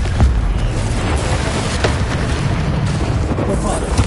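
Confringo blast spell from the Hogwarts Legacy video game, a dense, loud run of booming bursts and rumbling impacts that fills the whole stretch, with spell-casting voices shouted over the explosions.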